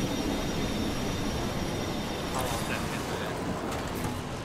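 A train in a video game rumbles along with a constant dense roar and faint high wheel squeal, loud and steady throughout, with players chatting over it.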